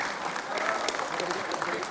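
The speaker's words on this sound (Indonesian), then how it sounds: "Berikan tepuk tangan yang meriah." A crowd at an Indonesian political party anniversary gathering gives dense, steady applause that fills the whole two seconds at a moderate level.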